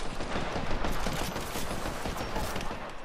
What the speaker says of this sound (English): Oh my god, she hit me on the last shot.